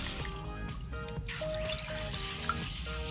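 Urad lentils (mash dal) are washed in water in a home kitchen, giving a steady close trickle and slosh of running water with light splashes and drips throughout, with no talking.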